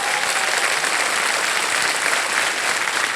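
Studio audience on the KBC game show claps to welcome a contestant's husband, a dense, steady, loud burst of applause that fills the whole stretch without a break.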